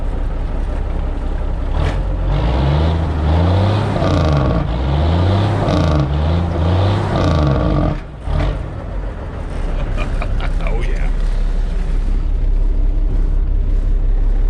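An old Peterbilt truck engine rumbles loudly, with repeated rhythmic engine-brake blats and revs, then a brief dip before the engine noise resumes.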